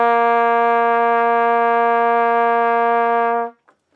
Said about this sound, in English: So that is our low C on the trumpet,